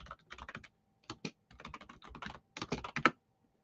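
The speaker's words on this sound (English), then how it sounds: "As you can hear my keyboard, I'm sure it's pretty loud." Loud clacking of a computer keyboard as someone types in quick bursts, with short pauses between runs of keystrokes and no voices over it.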